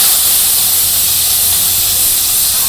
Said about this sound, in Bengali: এখন জিরা দিয়ে দিলাম, পেঁয়াজ কুচি দিয়ে দিই